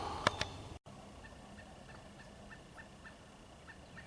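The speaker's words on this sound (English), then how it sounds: "All the birds just went crazy as soon as I come around the turn." Wild turkey gobbling in the woods, a sharp nearby gobble at the start, then faint repeated bird calls far off over a steady hiss of outdoor ambience.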